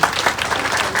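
A rally crowd bursts into dense, loud applause, many hands clapping at once in a continuous close wash of sound with no voices on top.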